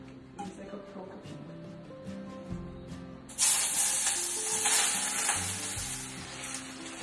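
An omelette fries in a greased pan, its sizzle jumping from soft to loud and bright partway through and then holding steady as the batter hits the hot surface, with a person talking over it.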